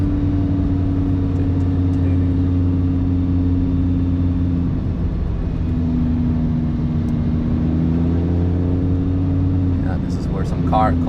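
A Lamborghini Huracán Performante's V10 engine drones steadily at close range, picked up by a rear camera, its low hum shifting pitch as it revs slightly, with a voice talking over it, at the Nürburgring.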